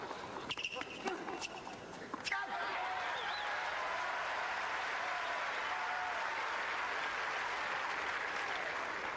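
Tennis crowd at a 1997 Key Biscayne semifinal between Muster and Courier bursts into sustained applause and cheering, a dense steady roar of clapping that swells after a brief lead-in and holds loud to the end.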